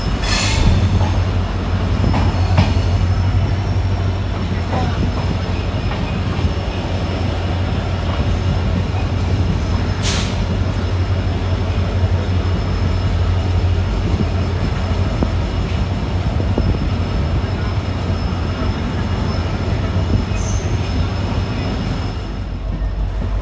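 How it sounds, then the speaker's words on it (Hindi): A passenger train pulls out of New Bongaigaon Junction, with a continuous low rumble of wheels on rail, rhythmic clacking and a few sharp squeals, heard close and steady throughout. "8:30 एकदम ऑन टाइम हम लोग डिपार्ट कर रहे हैं न्यू बोंगाईगांव जंक्शन"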